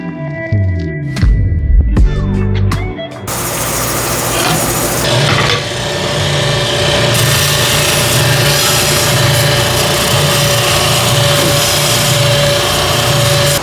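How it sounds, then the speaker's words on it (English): A bandsaw slices through wood pieces for a small kitchen project, a loud steady rasping whir that runs continuously after a few brief knocks and handling sounds at the start. "we're here at the bandsaw. We're just going to slice those 2 off and make that channel"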